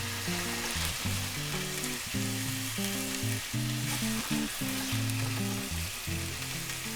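Guinea hen meat sizzles in a sauce, a continuous frying hiss heard up close, while music with stepped tones plays underneath.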